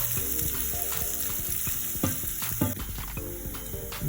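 Dried red chilies and garlic fry in a pan, a close crackling sizzle mixed with brisk stirring and scraping strokes.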